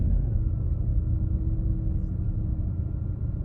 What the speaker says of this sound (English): My car is warming up again.